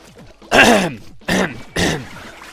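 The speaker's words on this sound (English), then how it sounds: "I just had to, you know, clear my throat" A person clears their throat in three loud, rough bursts close to the microphone, each a harsh rasping rasp separated by short pauses.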